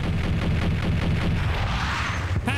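A grenade explodes in the Max Payne video game, a loud, dense rumbling blast that fills the whole clip with heavy, sustained low-end roar and rolling debris noise, with no voices.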